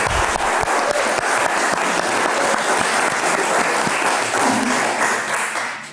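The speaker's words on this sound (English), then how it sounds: "How about a round of applause for our excellent volunteers here?" Applause for volunteers at a Salem, Massachusetts city council meeting, with many hands clapping loudly and steadily in a hall before tapering off at the end.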